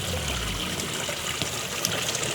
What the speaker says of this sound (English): Really nice design feature of the backyard and the swimming pool is 2 waterfalls right